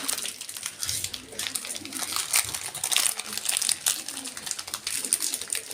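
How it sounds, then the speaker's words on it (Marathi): Biscuit packets being torn open by a child in a home kitchen, with dense, continuous close crinkling and ripping of plastic wrappers, alongside faint voices in the background. "माझी इशिता मला मदत करते बिस्किटचे पुढे फोडायला"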